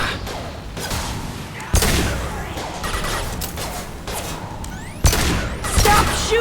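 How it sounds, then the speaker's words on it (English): Rapid video-game gunfire bursts crackle through a busy firefight, with sharp loud volleys around two and five seconds over continuous combat noise; a player's voice talks faintly underneath. "Stop shooting me!"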